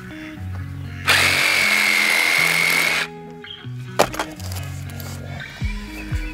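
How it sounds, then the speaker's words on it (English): PVC pipe being cut in half with a power tool outdoors, a loud two-second whining cut, followed by knocks and handling clatter over faint background sound. "A little too long, let's cut it in half."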